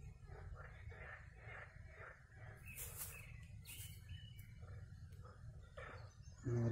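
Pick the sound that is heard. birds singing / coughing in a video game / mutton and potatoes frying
birds singing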